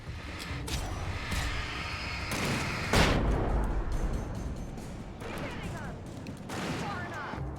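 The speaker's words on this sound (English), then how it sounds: "Shoot the flare gun, Barry." A flare gun fires in the Alan Wake video game, with a sharp, loud blast cutting through dense game noise and rumbling effects, followed by further crashing bursts under a continuous dark soundtrack.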